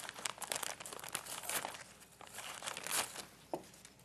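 A plastic bag of container potting mix is cut open, giving a soft, steady stream of crinkling, rustling and tearing plastic close by, with a few louder crackles and no voices.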